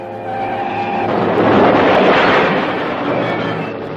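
Holden Viva race car crashing during the 1965 Armstrong 500 touring car race, a loud sustained roar of engine and scraping impact noise filling several seconds, with no talk over it.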